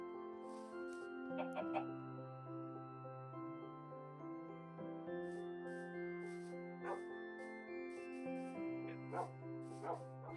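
Minecraft wolves in a woodland game world make short dog-like barks and yips in scattered bursts over steady game music, moderately close and not loud.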